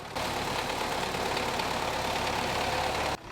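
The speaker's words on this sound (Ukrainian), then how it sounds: "Без машиніста в кабіні та на дистанційному керуванні, наче іграшковим, через джойстик оператор керує трактором." A remote-controlled demining tractor with metal detectors front and rear runs its engine in a steady, loud, continuous drone that cuts off abruptly near the end.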